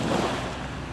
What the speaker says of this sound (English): So we at the beach in St. John's.